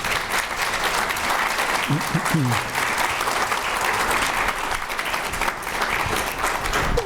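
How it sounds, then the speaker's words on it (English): A lecture audience gives a panel on food as medicine a round of applause: dense, steady clapping from a large crowd filling the hall, with a brief voice heard faintly underneath partway through. "Let's give the panel a round of applause"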